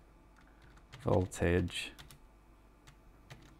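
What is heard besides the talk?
typing on a computer keyboard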